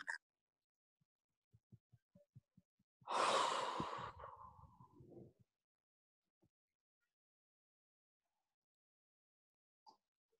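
A single deep breath blown out in a quiet room during an energy-tapping session, a long breathy exhale lasting about two seconds after some soft taps, with a few faint knocks afterward.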